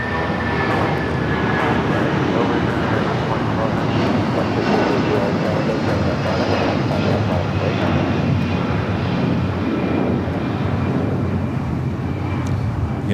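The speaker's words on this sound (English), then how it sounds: "United 757 at 200, that flight heading to Newark. Taking off here on the south side" A United 757 jet takes off from the south side of LAX bound for Newark, its engines a steady, loud broadband roar that holds throughout without letup.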